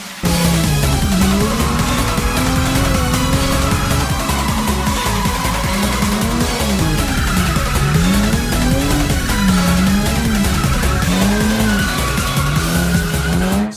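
A BMW E36 with a freshly swapped engine drifts on a track, its engine howling up and down with wavering revs over continuous loud tire squeal that lasts the whole run, close and without talk.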